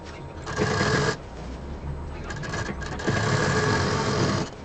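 Sewing machine stitching a pillow seam, two steady runs of fast, even needle chatter separated by a brief quieter pause, close and fairly loud.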